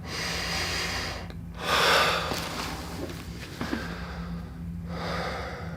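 Slow, deep breathing during a chiropractic session, air drawn in sharply through the nose and pushed out through the mouth, close and audible, with a louder exhale near the middle.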